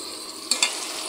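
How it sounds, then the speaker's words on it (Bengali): Chicken fries in a pan with garlic paste, ginger paste, cumin powder, salt and turmeric, giving an even, close hiss broken by two quick metallic clinks of stirring. "আমি এখন মশলাটা ভালো করে কষিয়ে নেব, পুড়ে না যায় এই জন্য আমি একটু পানি দিয়ে দিলাম।"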